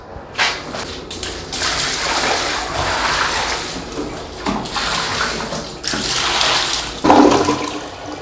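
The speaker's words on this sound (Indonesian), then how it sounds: "Ini airnya mau tak siram di sini." Water is poured and splashed out for washing at a work sink, a loud rushing gush in several bursts with short breaks, close to the microphone and without voices.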